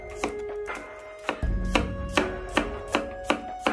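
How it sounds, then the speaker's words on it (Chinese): A knife slices cloves of garlic on a cutting board in a kitchen, making crisp, evenly spaced chopping taps, about eight close, clear strokes with no talking. "切成蒜片"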